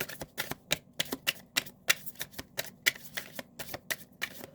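Tarot cards are riffled in a quick run of about twenty crisp, close snaps, evenly spaced and quiet, with no voice over them.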